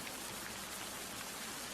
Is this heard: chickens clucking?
no